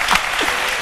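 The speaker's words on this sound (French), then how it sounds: "Applaudissez pour le cacaoyer, les gars" Audience clapping at a live French TV midday show after a cocoa-pod cutting tool is demonstrated, a short steady burst of applause filling the room with no talk over it.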